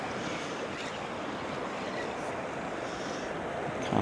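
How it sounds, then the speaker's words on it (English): Big ocean waves roll in at the shore with a continuous wash of surf and wind noise, fairly faint and steady, swelling slightly at the end. "Big waves coming in."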